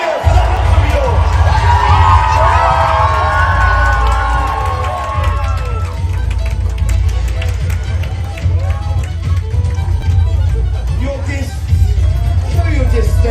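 A large outdoor crowd at a live War of the Roses show at Warwick Castle cheers loudly, with whoops, children's shouts and sustained roaring voices that swell and continue throughout.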